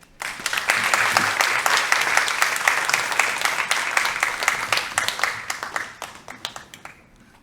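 Audience applause welcoming a pastor to the stage at a university chapel service, a steady wash of many hands clapping that holds for several seconds, then thins into scattered claps and fades.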